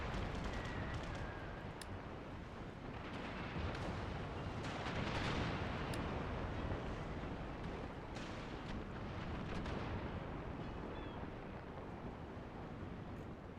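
Naval artillery and gunfire from Empire: Total War battle firing into an enemy formation, a continuous dense roar of cannon blasts and rumbling explosions with no clear gaps, steady and heavy throughout.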